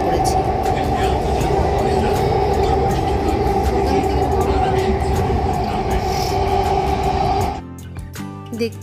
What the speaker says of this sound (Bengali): দেখতেই পাচ্ছেন আমরা এখন মেট্রোতে চেপে পড়েছি